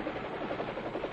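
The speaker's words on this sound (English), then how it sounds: "A helicopter is a type of airplane." A flying helicopter produces a steady, buzzing rotor drone with a rhythmic pulsing beat, continuous and moderately loud throughout.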